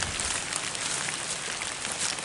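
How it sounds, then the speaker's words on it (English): Steady rain falls across the whole stretch at a bobcat trapping set in eastern Kentucky woods, a dense even hiss with no clear individual drops and no talking. "Hey, it's raining again."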